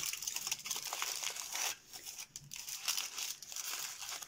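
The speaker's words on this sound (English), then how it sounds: "So I've just got my tin foil here. I'm just going to rip a piece off." Tin foil torn from a roll and crinkled by hand around a ball while making a disco ball, with continuous close rustling and crackling, a brief pause midway, then more crumpling.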